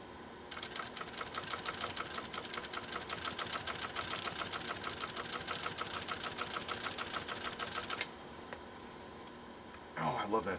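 A Pfaff 130-6 sewing machine, fitted with a mounted embroidery unit, stitches at a steady fast rhythm under gentle foot-controller power for about eight seconds, then stops; a brief voice or rustle follows near the end.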